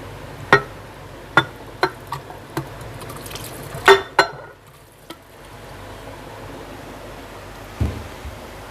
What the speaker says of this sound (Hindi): तो अब हम इसको जग में डालेंगे।